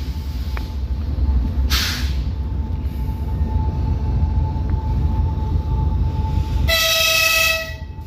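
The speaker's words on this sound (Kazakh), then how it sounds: "Мінекей, біздің әдемі тепловозымыз." A Talgo train's diesel locomotive rumbles steadily nearby, then sounds a loud, sustained horn blast near the end with a bright tonal chord over the continuous rail noise.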